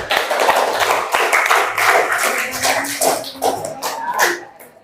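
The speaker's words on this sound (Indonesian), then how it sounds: "Beri aplaus." An audience claps in a classroom, producing a loud, dense burst of applause that thins into scattered claps and fades out over several seconds.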